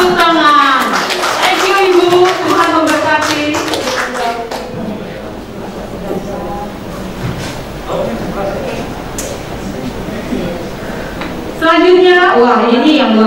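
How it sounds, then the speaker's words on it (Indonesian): Audience clapping at a closing ceremony for a women's mentoring conference in Jakarta, with a burst of scattered claps at the start and end under a speaking voice and music. "Tepuk tangan."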